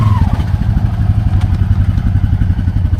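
Loud, steady, rough engine drone from a Honda Pioneer 500 side-by-side straining while stuck in a concrete hole, with a pulsing low rumble and occasional clatter, no talk.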